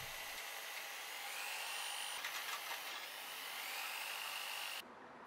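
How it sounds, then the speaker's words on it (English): A high-pitched power drill whines steadily for several seconds, drilling mounting points and button holes in a steering wheel blank, its pitch shifting slightly as it bites into the material, then stops abruptly. "Next, we can drill out the mounting points and the buttonholes."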